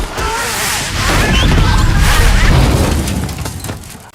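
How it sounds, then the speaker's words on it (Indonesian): Film sound effect of a bomb exploding inside a lift: a loud, close, booming blast with crashing debris that swells and then fades out over a few seconds. "Namun lift tersebut ternyata telah Clay pasangi bom."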